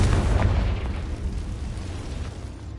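A Confringo explosion spell going off in a video game, a loud, sustained low rumbling boom with a crackling broadband wash that slowly fades.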